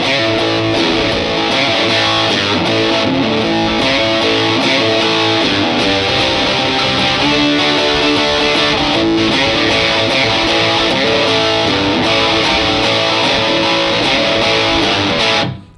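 Overdriven electric guitar played through a tube amplifier with the reverb switched off, giving a dry, classic old-school rock tone: sustained chords and riffs, loud and continuous, with no talking over them.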